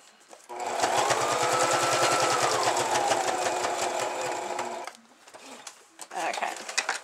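Sewing machine stitching through a paper bag scrapbook album, a fast steady mechanical chatter running for about four seconds, stopping, then starting again briefly.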